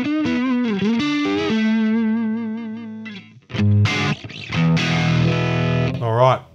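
A Stratocaster electric guitar runs through a Tonex ONE amp patch, with loud, close, driven notes bending and sustaining. A short break follows, then thicker chords ring out, with no talking heard.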